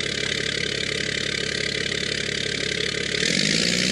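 A vehicle engine idles steadily while stopped with the exhaust brake flap open, a continuous mid-pitched rumble that holds level and grows slightly louder near the end, with no voices.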